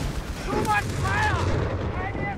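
Battle sounds from the Company of Heroes 3 North Africa campaign at El Alamein: continuous rumbling gunfire and artillery blasts, with shouting voices and a whistling tone over the dense combat din.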